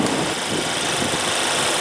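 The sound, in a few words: 2015 Mercedes-Benz C300 2.0L turbo 4-cylinder engine idling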